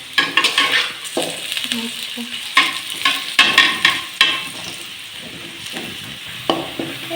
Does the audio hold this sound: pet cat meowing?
no